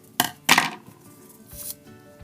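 Scissors snip scrap paper for a cubist-style paper mask craft: two sharp, close cuts in quick succession, then a softer third snip after a pause.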